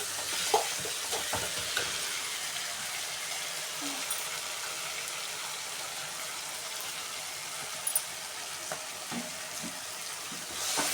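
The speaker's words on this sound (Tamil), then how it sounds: "ஸோ அடி பிடிக்காத அளவுக்கு நல்லா இது மாதிரி கிண்டி விட்டுக்கோங்க." Maggi vegetable noodles are stirred in a pan over a soft, steady sizzle, with scattered light scrapes and taps from the spoon and no talking.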